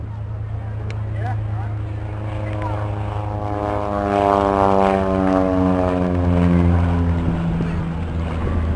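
A propeller training aircraft passes at an airshow, its steady droning engine loud and close with a pitch that rises then sinks as it goes by, while an announcer talks over it.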